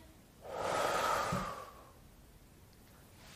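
A deep belly breath drawn in and let out during a preschool trapeze-swing calming exercise, one clear breathy swell lasting about a second, close and alone.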